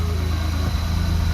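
Turbocharged all-wheel-drive Toyota Camry engine, just started, idling with a steady low rumble and a faint whine above it, close and continuous with no speech.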